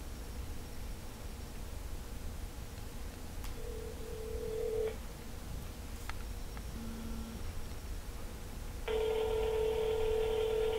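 Phone call being placed on a mobile: a few short beeping tones, then a steady ringback tone starting near the end, heard over a constant background hiss with no talking.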